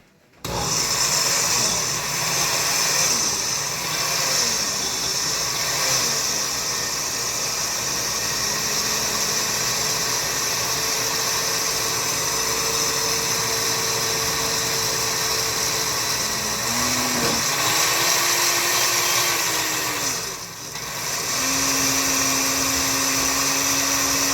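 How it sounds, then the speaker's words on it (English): A blender runs steadily, blending beans with a little water for moi moi, a loud continuous whir with shifting pitch as the load churns, briefly dipping near the end. "We're going to start blending the beans now."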